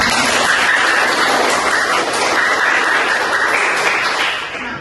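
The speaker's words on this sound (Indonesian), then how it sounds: "Beri tepuk tangan untuk teman-teman" Classmates in a school class receive a burst of audience applause, dense and steady, loud and close throughout, with no talk over it, tapering off slightly at the end.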